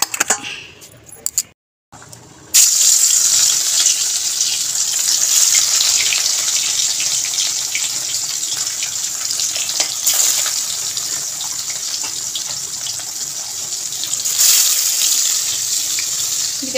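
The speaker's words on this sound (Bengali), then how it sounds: "তো চলো আমি মাছগুলো একটু ধুয়ে নিই।" Prawns being washed under a running kitchen tap, a loud steady gush of water splashing over them after a short pause with a few clinks, continuing unbroken to the end with small handling knocks.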